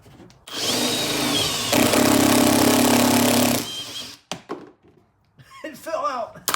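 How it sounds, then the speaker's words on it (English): Power drill boring through a hood part on a 2019 Mustang GT, a loud steady whir lasting about three seconds at close range, followed by quieter handling clatter and brief squeaky sounds. "And just drill through it."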